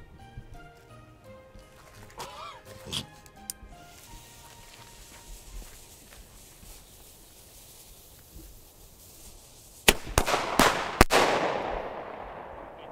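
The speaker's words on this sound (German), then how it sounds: "Und jetzt starten wir erstmal mit einem Vego Flashbang." A Vego Flashbang firecracker goes off outdoors at a Christmas fireworks outing: after a long stretch of quiet background with faint scattered pops, several sharp, loud bangs burst in quick succession near the end.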